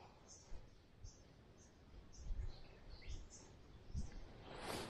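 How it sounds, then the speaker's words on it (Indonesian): Birds call on a Merbabu mountain trail, faint high chirps scattered across a quiet outdoor background, with hikers' footsteps and voices nearby. "Banyak burung tuh."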